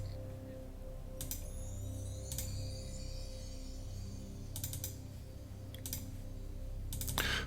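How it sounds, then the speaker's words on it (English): A Mac Classic's mouse button clicks in short clustered bursts while Wizardry (1985) is played, crisp and close over a steady low computer hum, with pauses between bursts and no talking. "So there's a lot of clicking if you want to play this game"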